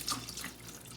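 Water is poured into a container while making homemade honey mead, a soft splashing trickle heard briefly and quietly up close with no voices.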